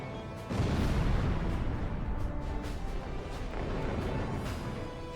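A fuel-air explosive bomb detonates in the flight combat video game Ace Combat Zero, a sudden deep boom followed by a long rolling rumble that gradually fades.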